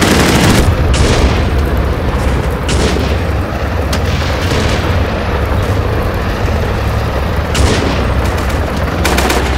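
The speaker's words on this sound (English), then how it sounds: "Stormovik's firing and firing," In the World War II tank simulator Steel Fury, Stormovik ground-attack aircraft fire over a battlefield, giving a loud, continuous roar broken by several sharp bursts and booms, with no voices.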